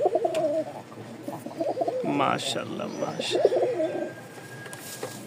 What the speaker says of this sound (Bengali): রাজশাহীর উড়াবাজি কবুতর